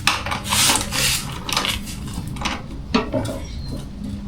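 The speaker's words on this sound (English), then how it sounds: "I'm using my torque wrench again to see the torque that's coming off this bolt" A torque wrench breaks loose a fork bolt on a Kawasaki KX250F dirt bike during fork seal work, producing close scraping, grinding rubs and a few sharp metallic clicks in an irregular pattern, with no speech.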